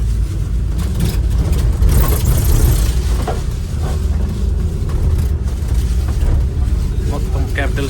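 A double-decker bus rolls through Kuwait City, its engine a steady, loud mid-range rumble with passing road noise throughout, heard from on board.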